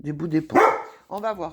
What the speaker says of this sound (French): c'est mon chien qui fait n'importe quoi